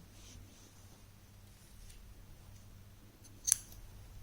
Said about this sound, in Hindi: यहाँ पर धागा काट देंगे